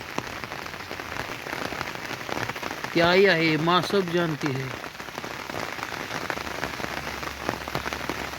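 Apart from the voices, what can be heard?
heavy rain falling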